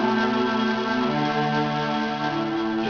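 A guitar strums the four chords of a song in a sustained, ringing pattern, steady and clear with no talk.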